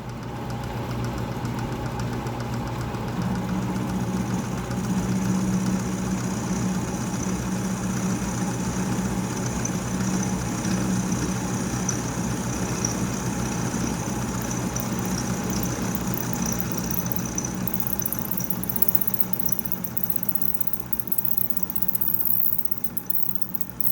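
A home-shop milling machine runs a fly cutter at about 1100 RPM, a steady continuous motor hum and rhythmic mechanical rumble held close and even throughout, with a brief rise of higher hiss near the end.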